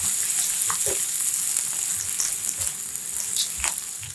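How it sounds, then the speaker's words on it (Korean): Tomatoes stir-frying with sliced onion in olive oil in a pan, a steady close sizzle with scattered soft scrapes and pops throughout, no voices. "같은 팬에 올리브유 한 스푼 두르고 채 썬 양파를 넣고 살짝 색깔나게 볶아 풍미를 올려주고 토마토를 넣고 볶다가"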